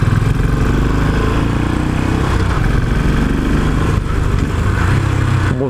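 A Royal Enfield Continental GT motorcycle engine runs loud and close on a test ride, a dense steady thump with slight revving changes throughout, no talk over it.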